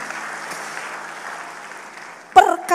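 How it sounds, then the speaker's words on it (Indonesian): A church congregation claps during a sermon, a steady, moderate wash of applause that fades slightly before a sudden louder burst near the end. "Kasih tepuk tangan buat Allah kita."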